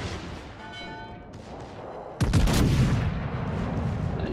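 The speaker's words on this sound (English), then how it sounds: "And shots on the Montana." Battleship guns firing in the naval game World of Warships: Legends, with a quieter rumble followed by a sudden loud, booming salvo that rolls on for about two seconds.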